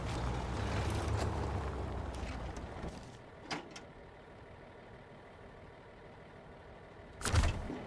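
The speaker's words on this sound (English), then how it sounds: "I'm going to turn off the engine for the Scout." The Scout truck's engine shuts off in SnowRunner: a loud rumbling idle runs for about three seconds, then cuts out, leaving a quiet hum broken by a couple of brief clunks and a final thump.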